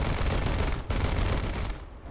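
Aircraft cannon fire from a Fokker D.XXI in War Thunder sounds as a dense, loud, continuous burst of rapid shots. A brief break comes partway through before firing resumes and tails off.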